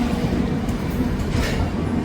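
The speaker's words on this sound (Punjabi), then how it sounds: "ਇਹ ਟ੍ਰੇਨ ਰੂਪਨਗਰ ਸਟੇਸ਼ਨ ਤੇ ਪਹੁੰਚ ਗਈ ਆ" The Indore Express, train 19308, arriving at Rupnagar station platform 1, a loud continuous rumble of rolling carriages heard close up, steady with no pauses.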